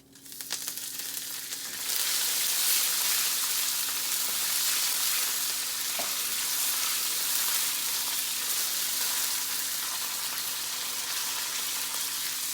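Dried chili and curry leaves dropped into hot oil burst into a loud, dense crackling sizzle that stays steady and close for several seconds.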